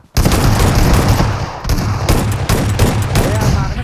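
Dense gunfire in a video game, rapid bursts of shots packed together loudly for several seconds with brief gaps, with voices of players talking underneath.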